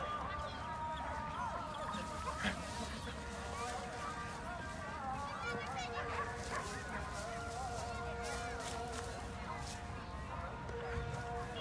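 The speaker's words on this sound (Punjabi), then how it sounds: "ਇਹਨਾਂ ਦਾ ਕੁੱਤਾ ਰੈੱਡ ਪਾਸਪੋਰਟ ਲਾਲ 33 ਨੰਬਰ ਏ ਜੋ ਜੇਤੂ" Greyhounds barking and yipping at a village track race, with an announcer talking continuously over a busy outdoor crowd; the barks are scattered and moderately distant beneath the commentary.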